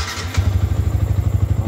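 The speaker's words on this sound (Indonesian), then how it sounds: "motor nyala" A Yamaha New Vixion motorcycle with a rough-running fault fires up from cold: a brief starter whir, then a close, loud, steady idle with a regular low thumping pulse.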